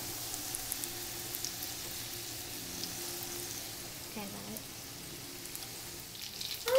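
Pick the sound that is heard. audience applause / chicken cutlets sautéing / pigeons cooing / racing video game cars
chicken cutlets sautéing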